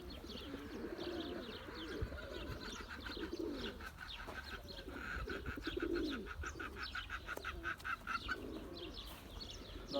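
Several Ankara tumbler pigeons coo softly and repeatedly in a breeding coop in a low, throaty rhythm, overlapping, with some faint chirps in the background.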